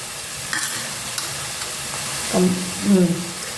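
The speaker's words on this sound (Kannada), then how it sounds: "ಬರೀ ಎಣ್ಣೆ ಒಳಗೆ ಬಾಡ್ಬೇಕು ನೋಡ್ರಿ" Spices and garam masala sauté in plain oil for capsicum rice, making a continuous soft sizzle with occasional stirring knocks and a couple of brief louder scrapes near the end.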